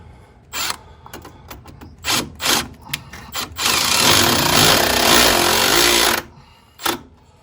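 Power tool driving a self-tapping screw, with several quick scraping bursts followed by a sustained loud grinding run of about two and a half seconds, then a final brief burst, close up and without talk.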